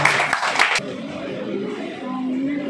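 An audience claps in the St. Luke Church hall during a Pattimandram debate event: a short, dense burst of applause that quickly dies away into quiet room tone.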